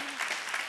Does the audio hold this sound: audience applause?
yes